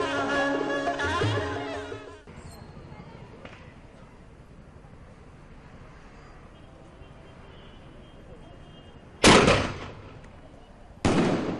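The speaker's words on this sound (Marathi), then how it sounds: "लक्ष्मी पूजनानंतर फटाक्यांची आतषबाजी करून आनंद साजरा केला जातो" Fireworks are set off for a Lakshmi Puja celebration, with loud firecracker bursts close by after a quieter stretch, first near the end and again right at the close, over a murmur of crowd noise.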